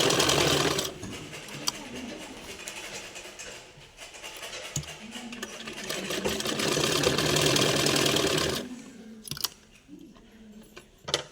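Sewing machine running steadily while stitching a blouse, a close, continuous mechanical whir with brief pauses and a few clicks near the end.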